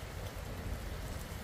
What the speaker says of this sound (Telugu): వర్షం అయితే పడతానే ఉంది.